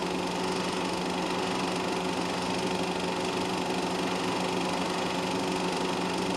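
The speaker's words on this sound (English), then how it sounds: "Everett running a very steady race, still the leader in his D production Porsche" Vintage D-production Porsche sports car engines racing alongside Austin-Healey and Alfa cars, a steady, buzzing drone heard at a distance, continuous and even throughout without any speech.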